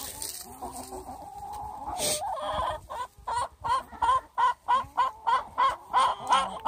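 Chickens cluck in a steady run of short, evenly spaced bursts, close and clear, following some quieter scratching and rustling.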